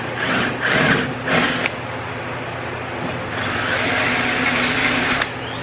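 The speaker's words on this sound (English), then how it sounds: "you see I did not go past the tape on the drill bit" A power drill bores a hole during hood strut installation on a Toyota Tacoma, heard as three short bursts followed by a longer sustained run, close and fairly loud over a steady background hum.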